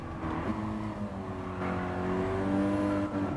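An Audi TT S-Line coupe's engine drones steadily on a flying lap in Gran Turismo 7, its note rising and shifting through gears with continuous loud revving and no talk.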